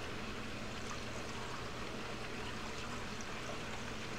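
Water drains steadily from an aquaponics grow bed in a constant, faint, even rush of flow.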